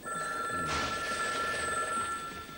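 A telephone bell rings steadily with sharp, bright tones, loud and close throughout the short span, with no voices over it.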